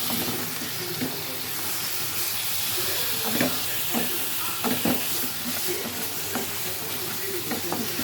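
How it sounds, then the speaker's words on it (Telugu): Chicken pieces sizzle in a hot pan while being stirred, a constant close frying hiss overlaid with irregular scraping and knocking strokes of the spoon against the pan. "ఒకసారి చికెన్ వేసుకున్నాం కదా, కలుపుకుందాం."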